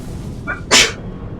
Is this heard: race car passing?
no